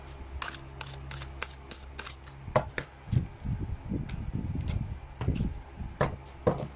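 Tarot cards are shuffled by hand during a reading, giving a run of quick crisp riffles and taps followed by denser irregular shuffling bursts. The sound is close and moderately loud, with no voices.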